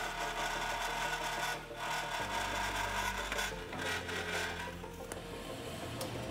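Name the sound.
sawing aluminum in vise with cutting fluid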